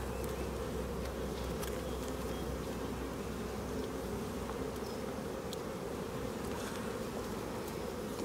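Honeybees buzz around their hives in a bee yard, a steady dense hum that fills the scene continuously, with occasional individual bees passing closer.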